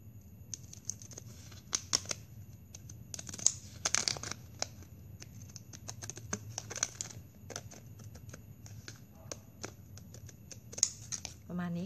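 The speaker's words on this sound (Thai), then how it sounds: "เราจะใช้กรรไกรซิกแซกนะคะตัดจากด้านนี้ด้านนอกหลอดนะคะเฉียงขึ้นไปเหมือนกัน" Zigzag scissors snip a plastic drinking straw in a quick irregular series of crisp close cuts and crinkles, with a few louder clusters and no voices.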